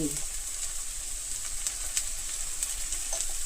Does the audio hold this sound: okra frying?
yes